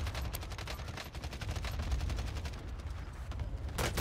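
Rapid automatic gunfire from an online shooter video game plays in fast, continuous bursts, loud and dense throughout, with a heavier burst near the end and no talk.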